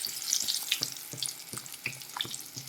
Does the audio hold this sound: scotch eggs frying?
yes